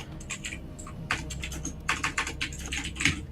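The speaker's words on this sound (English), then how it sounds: "you are typing loud" Loud, close clattering of a mechanical keyboard in irregular bursts of rapid keystrokes with brief pauses, heard alone with no talk.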